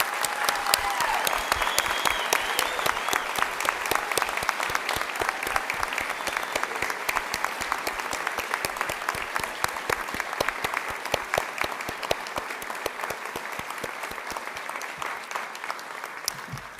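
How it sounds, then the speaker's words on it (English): A school honors ceremony audience gives the students a long, steady round of applause, dense clapping sustained evenly from start to finish with no talking. "Can we please give a long round of applause for these amazing students?"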